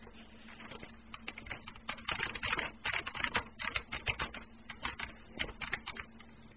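Fast, irregular clicking of keys on a computer keyboard as a command is typed, close and fairly quiet, in uneven bursts with no talking.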